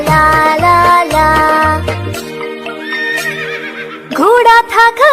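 A horse neighs in a cheerful Hindi nursery rhyme, a bright rising whinny near the end following sung melody with steady musical backing, loud and close.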